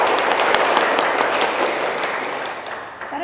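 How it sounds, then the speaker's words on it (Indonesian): An audience at a women's poetry gathering breaks into applause for fellow performers, a steady wash of many clapping hands that fades gradually toward the end. "Tepuk tangan untuk teman-teman kita."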